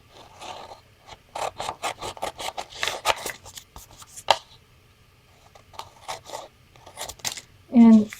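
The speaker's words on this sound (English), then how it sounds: "We'll just cut around here." Scissors snip around the edge of a mixed media paper craft tag in a series of short, close crisp cuts, interrupted by pauses while someone talks.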